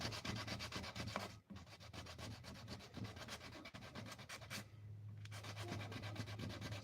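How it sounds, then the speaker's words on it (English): Continuous rhythmic rasping of sanding a ring, fast back-and-forth strokes close up, with a short pause midway, no speech. "But I'm going to continue sanding this until I can get that tape off."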